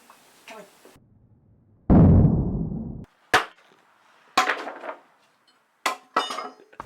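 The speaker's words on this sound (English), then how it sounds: "I'll hammer the nail and then we put it in slow mo and everything" Several sharp hammer strikes driving a nail into pallet wood, loud and close, with a few separate impacts after a brief burst of broadband noise.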